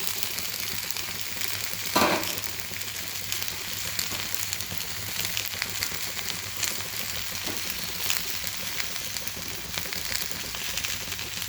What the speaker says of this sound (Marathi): हे पण छान प्रकारे परतून घ्यायचं आहे.